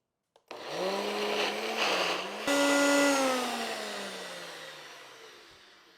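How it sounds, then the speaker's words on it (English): A blender motor whirs up and runs steadily, pitch shifting as it churns sweet potato until smooth, then slowly winds down toward the end. "take my blender here, and we are just going to blend this until it is smooth"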